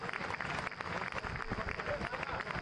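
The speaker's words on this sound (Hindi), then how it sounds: "हमारे अतिथियों का स्वागत करते हैं ताली बजा के" Audience applause greeting guests at a political gathering in Chhattisgarh's Bastar region, a dense, steady wash of many hands clapping at fairly close range, with some crowd noise mixed in throughout.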